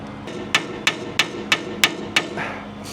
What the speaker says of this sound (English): So now I'm going to hammer this in and then try and hammer it into that side as well.